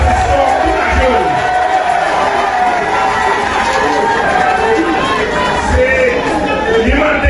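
Crowd at a political rally in Haiti cheers, whoops and applauds for senator Moïse Jean-Charles, a dense, loud and steady roar of many voices with no break across the whole stretch.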